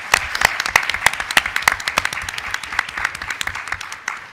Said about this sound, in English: Can we just applaud the scientists who got up and did that for us?